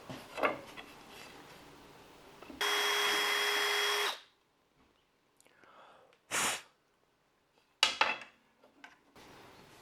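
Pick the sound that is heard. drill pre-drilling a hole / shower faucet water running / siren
drill pre-drilling a hole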